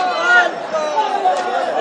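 A crowd of local devotees gathered at a temple for water offerings, heard as a steady murmur of many overlapping voices, close and moderately loud throughout.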